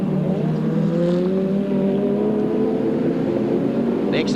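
The car 25 B&H BMW touring race car and others run at Eastern Creek in 1992, engines droning in a steady high whine that rises gently as they pass along the circuit.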